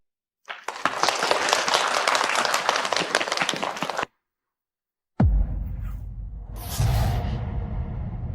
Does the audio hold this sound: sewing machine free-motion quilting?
no